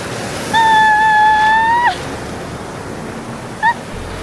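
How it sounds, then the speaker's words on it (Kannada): Evening waves break and wash at Kannur beach in Kerala as a steady, roaring surf mixed with wind. A clear whistle-like tone rises above it twice. "ಇನ್ನೊಂದು ಅಲೆಗೆ ನಿಮಗೆ ತೋರಿಸಿ"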